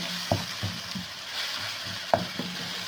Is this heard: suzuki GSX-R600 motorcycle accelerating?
no